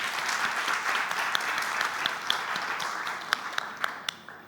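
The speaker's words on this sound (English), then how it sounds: "I'd like a final round of applause for them." A crowd applauds steadily, a dense wash of clapping that thins toward the end into a few scattered, sharper claps.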